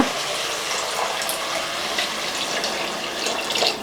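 Water pours in a steady, hissing stream into a pressure cooker holding chayote and lentils, continuous and close for several seconds.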